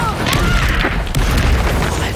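A Propender spell blast from the Hogwarts Legacy video game sounds as a dense, rumbling magical burst with sharp crackles. It stays loud and sustained through the whole stretch, with no talking.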